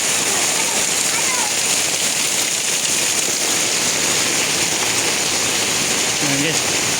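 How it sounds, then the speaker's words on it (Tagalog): Heavy rain pours down during flooding in Metro Manila, a dense, loud, unbroken hiss of water that holds steady throughout the clip, with no breaks in the downpour. "Grabe naman yung ulan na yan, oh."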